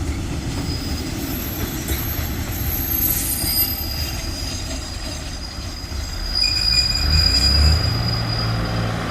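Two diesel railcars rumble steadily past nearby, wheels squealing and clattering on the rails, growing a bit louder toward the end.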